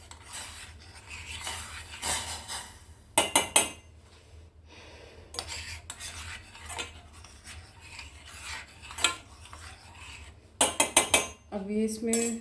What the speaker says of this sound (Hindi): अब इसमें मैं बस पानी डालेंगे, थोड़ी रोस्टेड चाय, और उसको थोड़ा चलाने वाले हैं